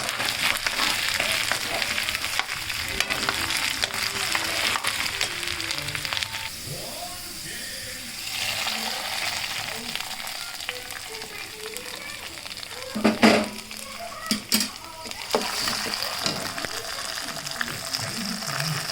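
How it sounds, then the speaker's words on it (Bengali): Spices sizzle and fry in a pan for pongal, a steady crackling hiss with occasional stirring clatter, while children and adults talk nearby. "এখানে সব কিছু দিয়ে এখানে এখন ফ্রাই চলছে"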